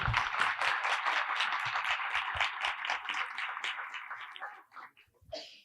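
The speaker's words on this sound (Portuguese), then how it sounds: "Salva de palmas, né, gente?" Listeners at a talk in Paracatu applaud warmly, a dense burst of clapping that carries on for several seconds before fading out, followed by a brief voice at the end.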